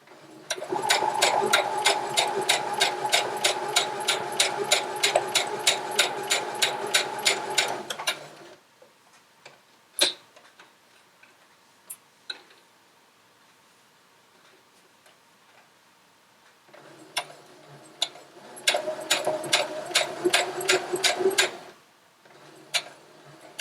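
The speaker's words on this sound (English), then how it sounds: "You might notice my sewing machine's a little bit different." An industrial sewing machine runs steadily for several seconds with a rapid, even stitching rhythm while quilting, stops for a few clicks and taps, then runs again in a short burst.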